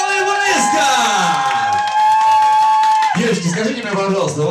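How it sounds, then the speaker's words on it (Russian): A full hall audience applauding and cheering at a stage show, loud sustained clapping with whoops and a bright held tone over it, voices mixed in throughout. "Под аплодисменты всего зала, да?"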